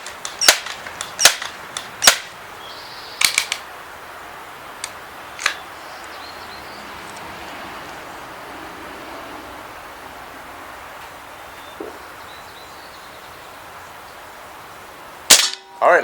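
Several sharp, close cracks from a Crosman M4-177 multi-pump .177 pellet air rifle come in an irregular cluster at the start, then a quiet hiss and later a couple of louder clicks and knocks.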